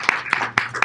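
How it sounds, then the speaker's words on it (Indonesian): Audience applause at an evening class event in Indonesia, a few sharp hand claps in quick irregular succession, brief and moderately close. "Tepuk tangan dong buat Mas Bayu."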